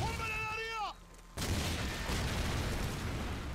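A flashbang grenade goes off in Call of Duty 4: Modern Warfare, a sudden loud bang followed by a sustained ringing, noisy wash after a brief muffled gap, with a voice at the start.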